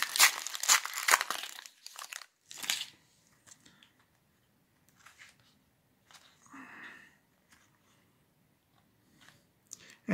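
Foil packs of WWE trading cards being torn open and crinkled up close, loud bursts of crackling at the start and again a few seconds later, then sparse faint rustles and handling noises.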